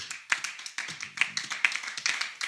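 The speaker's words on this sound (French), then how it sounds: "Est-ce qu'on peut acclamer le Seigneur?" A church congregation claps in praise, with dense overlapping hand claps in an irregular patter that swells and fades in bursts, moderately close and lively, without speech over it.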